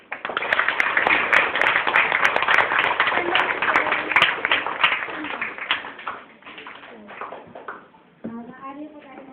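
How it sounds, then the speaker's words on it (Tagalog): A church congregation breaks into loud, energetic clapping with many hands at once, mixed with voices and children's chatter, tapering off as a speaker's voice returns at the end. "Malakas na, palakpak!"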